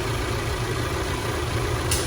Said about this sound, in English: The engine's idling.